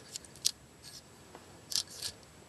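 Scissors snip through a shredded VHS videotape in a few sharp, quiet cuts spread across a near-silent background, with no voices.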